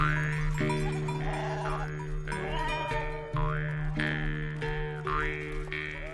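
Villnösser Brillenschaf sheep bleat repeatedly, several loud wavering calls following one another closely and overlapping one another, with farmyard background and no speech.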